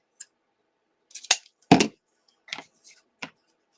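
Scissors snip several times through 5/8-inch ribbon for a snowman swag wreath, the cuts made at a slant to form a dovetail end. The snips are short, crisp and close, spaced irregularly with quiet gaps between them.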